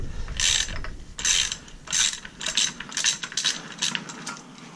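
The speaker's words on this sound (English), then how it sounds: "just keep tightening this until the gear pops off" A bolt being turned to press the clutch bevel gear off an 80cc motorized bike, giving close, loud ratcheting and metallic clicking in repeated bursts with brief pauses.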